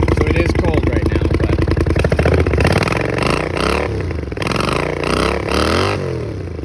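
The engine of a Honda CX500 custom cafe racer, carbureted and running without choke just after a cold start, idles close and loud with a steady rough throb, then blips its throttle into a few quick revs.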